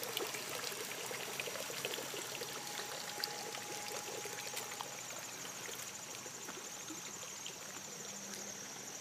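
A backyard pond waterfall runs steadily, a continuous soft pouring and trickling of water heard close by with no talking.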